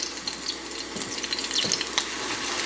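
Crushed garlic sizzles gently in oil for an herb-infused oil, a close, soft frying hiss with light crackles and stirring and no voices.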